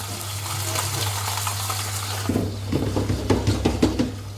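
Chicken pieces sizzling steadily in a hot pan, a constant frying hiss with a low hum, then a series of clinks and scraping knocks in the later half as the pieces are turned over.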